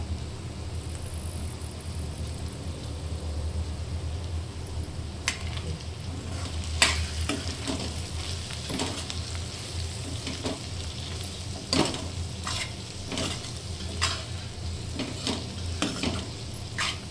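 Green beans sabzi fries in a pan with a steady close sizzle, while a spoon scrapes and stirs through it in repeated sharp strokes, with no talk.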